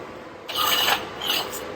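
A wire wheel buffs weld runs on a repaired CAT 336D2L dipper arm cylinder, giving two short harsh rasping bursts, fairly close and loud with no talk.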